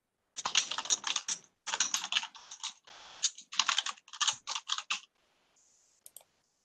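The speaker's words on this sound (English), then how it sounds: "If you hear clickety clacking, that's just me typing notes as we go along." Someone types notes on a computer keyboard at a town board meeting, a close, steady clatter of rapid key clicks in bursts with brief pauses, alone without talk.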